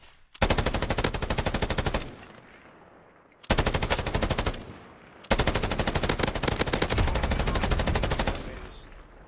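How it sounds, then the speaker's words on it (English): Rapid automatic gunfire in a battle-royale shooter game, loud, close bursts of machine-gun fire in three long volleys separated by brief pauses. "I'm being shot at."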